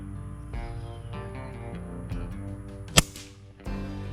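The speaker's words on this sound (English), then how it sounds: "All right, here goes the first shot." A single sharp crack from a cheap bullpup air rifle's first shot, one close report breaking a steady outdoor hum of insects and birds.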